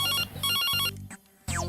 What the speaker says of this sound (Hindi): जब देखो तो फोन ही बजता रहता है।